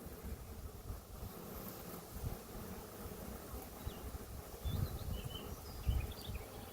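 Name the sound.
honey bees buzzing at hive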